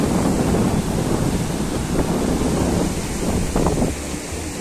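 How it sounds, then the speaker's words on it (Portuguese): Ocean waves breaking on an early-morning beach at Cabo Frio, a loud, steady surf roar mixed with heavy wind buffeting the microphone, with no talking. "Olha o barulho do mar."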